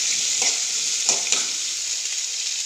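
Ingredients being sautéed in a pan, with a steady close sizzle of frying and a few soft stirring scrapes, without voices.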